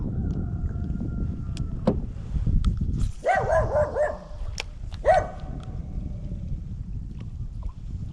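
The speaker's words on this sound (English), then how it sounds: "Little dogs over there barking at us." Little dogs bark from a distance across the water during river fishing, a few sharp yips in two short clusters over low rumbling background noise.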